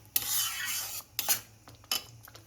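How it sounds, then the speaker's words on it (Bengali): A paste with sweet corn and water being stirred and sautéed in a pan for creamy restaurant-style pasta: three short bursts of wet scraping and rubbing of a spoon against the pan, separated by brief pauses, close and moderately quiet. "খুব ভালোভাবে একটু কষিয়ে নিচ্ছি।"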